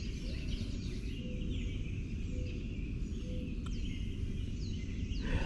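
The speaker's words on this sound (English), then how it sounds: "Just listening to the birds." Scattered birds chirp and call faintly in the distance at dawn, around 5:30 a.m., over a low, steady rumble, with no one speaking.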